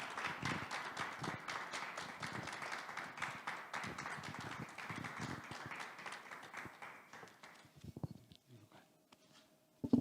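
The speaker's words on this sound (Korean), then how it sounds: "뜨거운 박수 부탁드립니다." A conference audience at a Reformed theology academic meeting claps steadily for several seconds, faint and somewhat distant, then the applause dies down to a few stray taps and a low hum.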